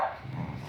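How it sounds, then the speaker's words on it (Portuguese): Dogs tug at a cloth (a pair of shorts) in play-fighting, giving a brief low growling grumble, close and steady, with no talk. "essa é briga de cachorro"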